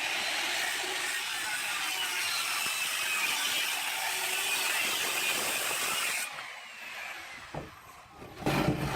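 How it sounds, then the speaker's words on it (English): Saw cutting a wavy edge into a wooden board for a cemetery fence prop: a steady, harsh, buzzing cut runs for about six seconds, then stops, followed by a few faint knocks and rustles. "So the next thing I'm going to do is cut kind of a wavy edge, being very careful."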